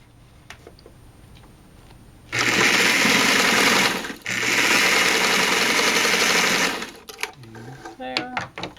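A domestic sewing machine with no slow setting stitches fabric for a tunic sleeve seam, running loud and steady in two bursts with a brief pause between, then stopping; quiet handling sounds come before and after.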